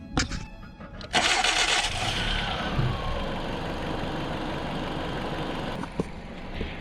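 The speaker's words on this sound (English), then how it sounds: "So we'll get this car started up" A car engine cranks and catches, then settles into a steady idle with a loud, continuous rumble.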